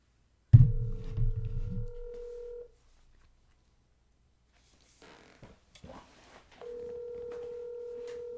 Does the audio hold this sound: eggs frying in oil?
no